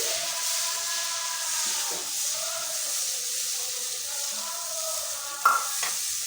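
Tomato puree sizzles in a pan with a soft steady hiss while a spoon stirs through it now and then, ending in a couple of sharp scraping knocks against the pan near the close.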